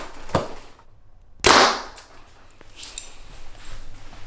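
A rifle fired from a QAD Ultrarest target rest gives one loud, close, sharp crack that decays quickly, preceded by a fainter short snap, in an outdoor setting.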